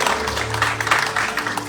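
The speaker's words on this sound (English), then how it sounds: "give yourselves a lovely round of applause" An audience at a Ramayan yagya satsang in a temple clapping, a dense, loud burst of applause filling the short moment.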